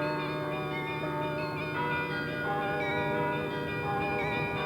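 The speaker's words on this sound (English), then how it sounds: "Each of the 48 bells has been tuned to produce a different note on the musical scale." A carillon of 48 tuned bells rings continuously in the Low Countries, rich overlapping tones sustaining and blending into a steady, resonant wash with no voices.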